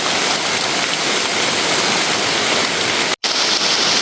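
Steady rain pours down without a break, a dense close hiss with a brief dropout near the end and no voices.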